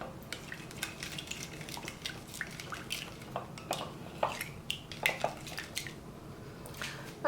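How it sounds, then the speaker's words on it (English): Wet naan dough ingredients, lukewarm water with dissolving sugar and salt, stirred in a bowl: soft liquid swishes and light clinks of a utensil against the bowl, repeated at an irregular pace, close and quiet. "Stir it to dissolve the sugar and salt. Mix it all together."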